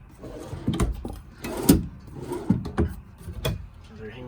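Drawers slide open and shut inside a 2018 Forest River 251RKS travel trailer, giving several close wooden knocks and short sliding thumps in an uneven rhythm.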